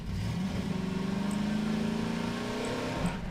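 A car engine revving steadily in the video game Hunt Down The Freeman, a smooth mid-pitched drone with the pitch slowly rising and falling, continuous and fairly close.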